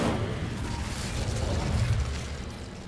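Incendio fire spell cast in Hogwarts Legacy, a sustained roaring, crackling whoosh of flame with rumbling low bursts, steady and loud throughout.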